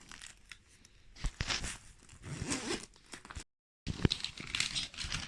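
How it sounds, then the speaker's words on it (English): A zipper is pulled closed on an indoor bag or case holding pens, making close raspy zipping strokes mixed with rustling and crinkling, with a short silent gap partway through. "I'm going to put the zip on."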